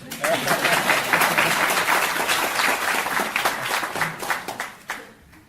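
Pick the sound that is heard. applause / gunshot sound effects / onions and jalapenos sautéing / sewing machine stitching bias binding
applause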